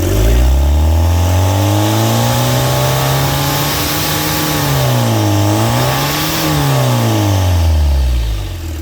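Opel Vectra 2.0 DTI turbo diesel with a faulty, oil-leaking turbo and the intercooler pipe removed, revving up and down in repeated swells, loud and close throughout with no talk.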